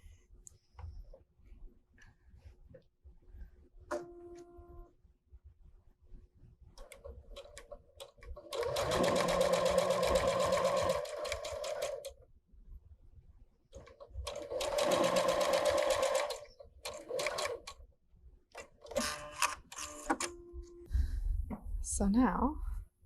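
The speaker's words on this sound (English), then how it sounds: "I like sewing with that sashing on top" A sewing machine stitches sashing onto a toy car carrier quilt in two steady whirring bursts of a few seconds each, close by, with quiet talk in the gaps.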